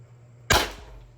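A single sharp shot from an Umarex HDP50 pistol cracks out loud and close after a quiet hum, its blast decaying over a fraction of a second.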